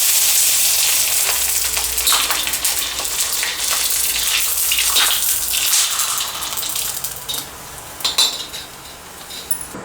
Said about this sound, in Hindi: ये गेहूं के पापड़ हम फ्राई कर लेते हैं